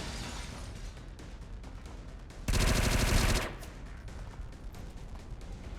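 Gunfire in XCOM 2, a loud close burst of automatic fire lasting about a second, set against continuous game background sound and scattered lighter impacts.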